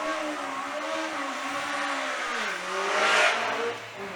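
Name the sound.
race car with Cosworth FVC engine at hill climb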